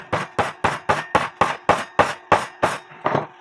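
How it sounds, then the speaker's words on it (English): A hammer pounds a short piece of wire into a drilled hole during repair of an 1880s Black Forest shield clock, a dozen sharp metallic taps in steady rhythm, close and alone. "when I take my hammer and pound this in"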